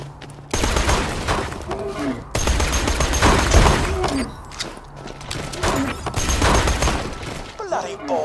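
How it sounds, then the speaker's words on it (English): Bursts of gunfire in the Borderlands video game as a player shoots down the Ferrovol's projectiles, loud rapid volleys with booms and crashes, interrupted by brief pauses and mixed with game voices. "Shoot some of the Ferrovol's projectiles out of the air."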